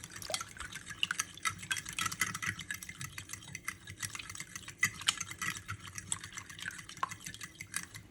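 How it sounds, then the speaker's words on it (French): Fork whisking two eggs in a large tart dish: quick, light tapping and scraping in a fast, continuous rhythm, faint and close, with no voice. "Je les fouette à l'aide d'une fourchette."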